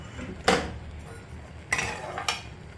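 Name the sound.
mixing oil into cooked gram flour in kadai with ladle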